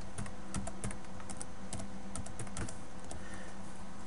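Typing on a computer keyboard, a quick, uneven run of close clicking keystrokes over a steady background hum, with no voices.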